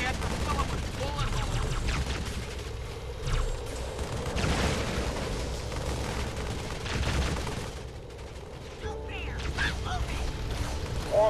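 Covering gunfire in the Halo Wars video game, a dense, steady battle mix of rapid shots and machine-gun bursts running throughout, with voices speaking over the combat.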